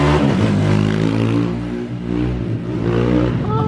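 A modified 190 cc motorcycle with a racing cam kit on petrol revs hard close by. The engine note climbs and falls in repeated throttle blips, loud and rough, with no talk over it.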